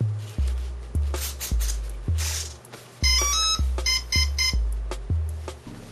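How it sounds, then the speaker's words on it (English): Rapid electronic beeping from a speed controller: a steady run of short, loud, low pulsing tones, with brighter chirping tones joining partway through. "see, it's making a noise now. That's the ESC."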